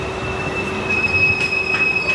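A Vasai–Diva MEMU local train runs along the line with a steady loud rumble and sustained high wheel squeal, heard from on board, with no voices.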